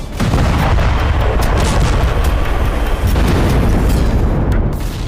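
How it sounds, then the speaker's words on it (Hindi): Airstrikes on residential buildings set off loud, dense booms and rumbling blasts that fill the whole span, a near-continuous barrage of explosions with no talk. "जोरदार धमाकों के साथ उठता आग का गुबार।"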